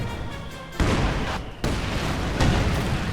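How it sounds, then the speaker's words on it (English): Mortar half-track incendiary strikes land in a Company of Heroes 2 battle as heavy booming bursts, one after another, with the loud crackle of battle noise continuing between impacts. "Another incendiary strike here from the mortar half track."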